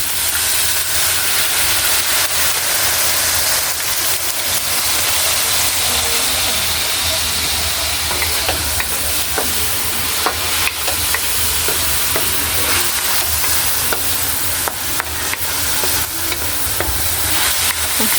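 Tuyo, dried fish, frying and stirred in a pan while cooking sautéed beans, a loud continuous sizzle and hiss close up, with scattered scraping clicks of the utensil throughout and no voices.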